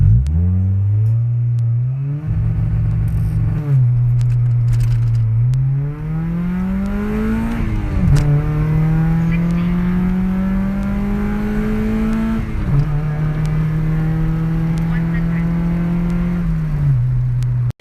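A Honda Civic with a 1.6 engine accelerates hard through several gears, each climb in loud engine drone broken by a brief dip at the shift, heard close and steady for nearly eighteen seconds.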